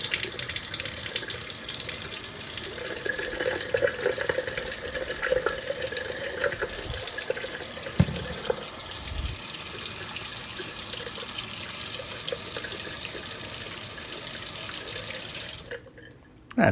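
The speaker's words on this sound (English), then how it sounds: "We're going to fill this with water." Water from a faucet pours into a glass jar of broccoli seeds, a steady close rush of running water with a couple of soft knocks, then the flow cuts off abruptly near the end.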